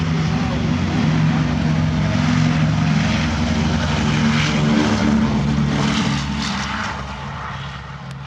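A Piper L-4 propeller aircraft flies past at a WWII Weekend event, a loud, steady engine drone with propeller buzz that holds for several seconds and then eases as the plane moves away.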